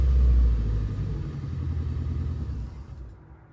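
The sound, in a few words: engine of a 2006 Scion xA running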